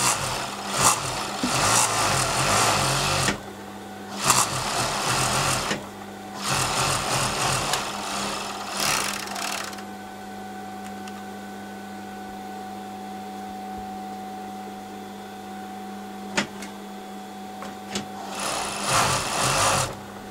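Overlocker serging the crotch seam of ladies' trousers, loud close bursts of rapid mechanical whirring in repeated runs with short pauses, a quieter humming stretch in the middle, then one more burst at the end.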